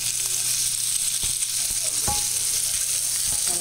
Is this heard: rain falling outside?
no